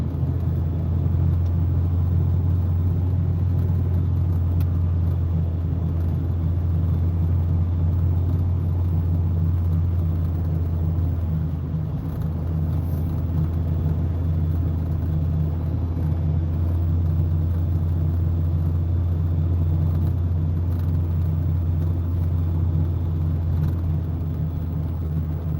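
Steady low car engine rumble and road noise from inside a vehicle driving up a mountain road toward 49° ski resort, continuous and even throughout with no talk.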